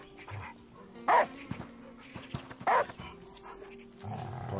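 A dog in the video game Last Day of June lets out two loud, sharp barks a second or so apart, with softer game sounds and brief yips around them.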